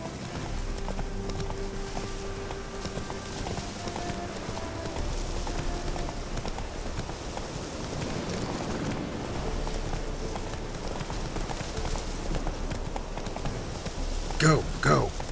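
Roach the horse gallops in The Witcher 3 with a steady, fast clip-clop of hooves running through the whole stretch. Game music plays underneath, and a louder burst of sound comes near the end.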